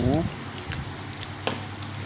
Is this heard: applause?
no